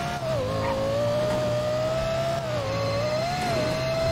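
A tuned Lexus LFA in a video game holds a high, steady engine whine with small rises and dips in pitch, loud and continuous throughout.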